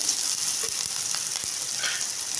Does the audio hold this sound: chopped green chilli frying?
yes